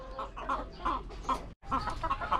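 Laying hens in a backyard setup cluck in repeated short, rhythmic bursts close by, with a brief gap of silence partway through; no people speak.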